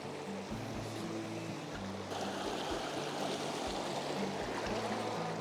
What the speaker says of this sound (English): shooting the water that's rolling over these rocks and is catching some really beautiful light